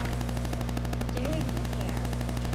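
Rapid gunfire crackles in BioShock 2 Remastered, a shotgun loaded with solid slugs firing in quick bursts over a steady droning game soundtrack, loud and close, with a voice talking faintly beneath.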